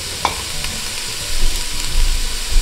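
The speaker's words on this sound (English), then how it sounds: "We're going to put the onion in first to give it a nice stir" Onion sautéing in a pan for stuffed shells with vodka sauce, a steady broadband sizzle with a sharp spoon click early on and soft stirring scrapes underneath, close and moderately loud.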